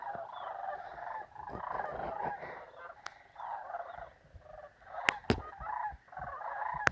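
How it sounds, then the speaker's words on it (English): Sandhill cranes call in flight as a formation passes overhead, their rolling, trumpeting cries repeating in uneven bursts at moderate distance, with a few sharp clicks and knocks close by. "They're beautiful. Sandhill cranes."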